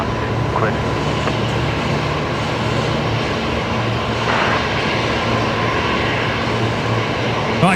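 A Qantas jet airliner rolls for takeoff on the runway at Brisbane Airport, a loud, steady engine roar with broadband rumble holding throughout while someone talks over it.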